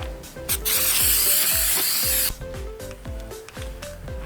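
A rattle can sprays paint in loud, steady hissing bursts onto a Ford F350 grill, with one long continuous spray in the middle and shorter clicks and rubbing sounds between passes.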